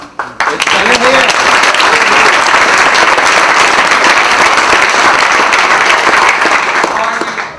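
Audience at a town open house breaking into loud, sustained applause with dense clapping from a crowd, continuing steadily throughout.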